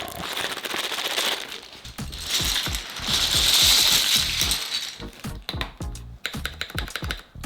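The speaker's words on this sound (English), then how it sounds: "we're gonna throw those out and go with DCX Permafrost." DCX Permafrost keycaps pressed onto a mechanical keyboard, a dense run of close plastic clicks and snaps, at times rapid and overlapping, with a brief bright rattling stretch in the middle, no speech.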